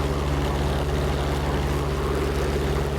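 A P-47 propeller airplane in flight, its engine giving a steady, loud, low drone with a constant hum throughout and no voices.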